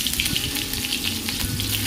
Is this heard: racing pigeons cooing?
no